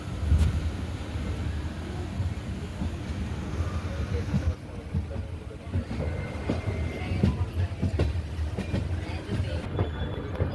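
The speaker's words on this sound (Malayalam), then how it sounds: "കായംകുളം ജംഗ്ഷൻ റെയിൽവേ സ്റ്റേഷനിലേക്ക് ട്രെയിൻ കയറുകയാണ്" The Mysuru Express rolls into Kayamkulam Junction railway station with a steady low rumble and rattling carriages, occasional clanks, and murmured voices in the background.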